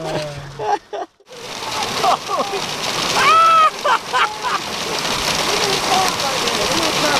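Large hailstones pattering and drumming on a truck's metal body, a dense steady clatter with excited voices talking over it.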